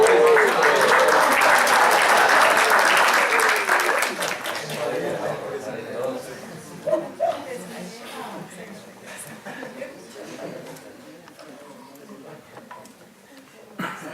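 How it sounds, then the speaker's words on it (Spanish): Audience applause at a university intercultural-dialogue lecture, loud and dense for the first four seconds, then thinning out into scattered claps, murmuring and some chuckling from the crowd. "Venga, venga, un aplauso a este compañero."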